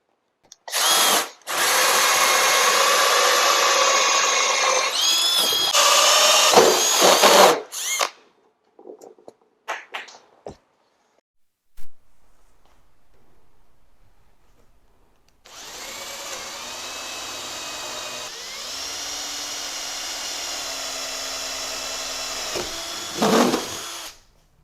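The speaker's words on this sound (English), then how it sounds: "that's where I'm going to drill my hole" A power drill bores a doorknob hole through an interior door, mounted in a doorknob jig. Two long, loud whirring runs with a quiet gap between them, each ending in sharp bursts as the bit breaks through.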